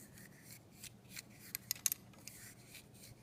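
A cleaning patch wet with solvent is worked through a Bodyguard 380 pistol barrel, making faint, close scraping and rubbing strokes with a few sharper scratchy ticks.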